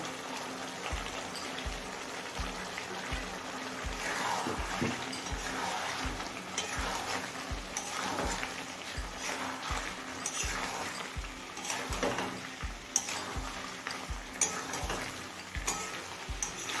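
Chicken with ginger and garlic cooking on a high flame, a continuous sizzle with a regular rhythm of stirring scrapes and taps throughout, close by and moderately loud.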